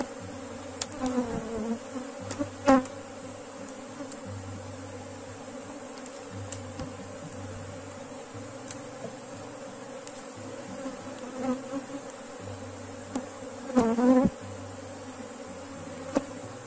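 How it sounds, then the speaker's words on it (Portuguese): Bees buzz steadily around an apiary, a continuous droning hum with individual insects swooping close at moments, heard alone over faint background noise. "Sempre acaba vindo algumas abelhas."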